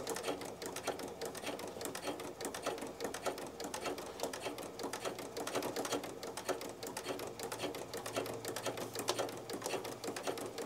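A sewing machine fitted with a ruffler foot set to gather on every stitch runs steadily for about ten seconds, a fast even mechanical patter at close range with no talking.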